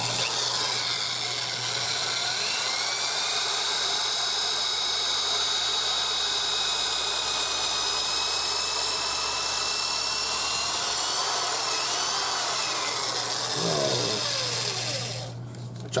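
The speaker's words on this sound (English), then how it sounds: "we're going to take our buffing wheel and we're going to go over this neck and we're going to give it a really, really, really good polishing" A buffing wheel spins with a loud, steady whine as it polishes the neck of an ESP guitar, running continuously before winding down at the end.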